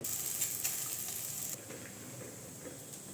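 Soft steady sizzle of ghee frying an almond and cashew obbattu on a hot pan, close and continuous with faint crackles, dropping slightly in level partway through, with no voices.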